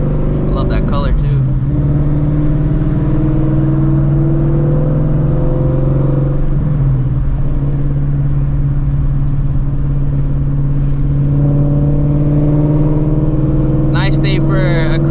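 A Shelby GT350 with a straight-pipe exhaust drones loudly and steadily under load during hard pulls, rising into a heavy roar near the end.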